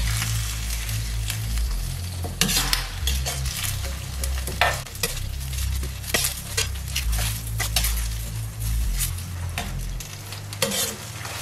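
Shrimp sizzle and crackle as they fry in hot oil, with repeated scraping and clinking of a utensil stirring against the pan.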